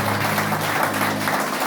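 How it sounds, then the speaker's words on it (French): A church congregation breaks into dense, sustained applause that stays steady and loud throughout, with no clear gaps. "Acclamons le Seigneur pour ça."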